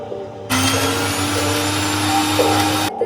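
An electric mixer grinder grinding chutney of garlic, dal and water whirs loudly for a couple of seconds, starting and stopping abruptly, a steady motor hum with a high whine.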